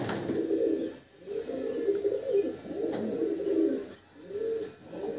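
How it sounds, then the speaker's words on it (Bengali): A racing pigeon at a loft cooing in close, soft repeated low coos, about four rolling phrases separated by short pauses. "তো চলে এসেছে বাপিদার আর একটা নেক্সট পায়রা, পিলাঙ্কা চোখের পায়রা।"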